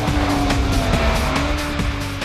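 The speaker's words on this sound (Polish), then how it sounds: "Samochodzik robi dużo hałasu, gdziekolwiek się pojawi" An Ariel Atom race car roars loudly close by, its engine noise rough and droning with faint tire squeal over a couple of seconds.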